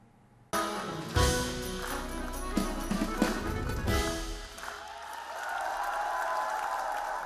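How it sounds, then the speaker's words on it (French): A concert audience clapping their hands, with a burst of sharp, irregular claps and thumps close by, then a softer sustained crowd noise that fills the room. "Les uns applaudissent en frappant dans leurs mains, les autres en les agitant au-dessus de leur tête."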